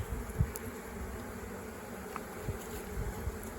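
Honey bees buzzing and fanning during a hive rescue in Livonia, Indiana, a steady close insect drone that holds through the clip without any talk.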